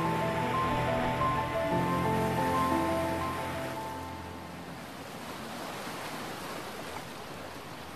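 Rough sea churns around the volcanic Aeolian Islands in the southern Tyrrhenian, a steady broadband wash of surf and wind that fills the whole stretch; a tonal hum sits under the first half before fading, leaving only the noisy roar.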